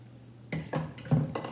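A food processor blade being pulled out after mincing vegetables for Tuscan bean soup, producing three or four bright metallic clinks and clatters in quick succession after a short quiet pause, close and fairly soft.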